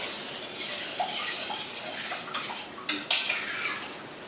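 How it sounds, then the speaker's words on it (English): A metal spoon stirs sugar syrup in a pot with soft scraping and clinking against the sides. One sharper clatter stands out near the end. The setting is quiet. "Let me just get a spoon and stir this."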